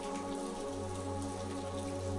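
Steady rain falling in a park among trees, a dense even patter of raindrops on surfaces, with a soft bench-side ambience, continuous and unbroken throughout, no voices, gentle background music tones layered underneath.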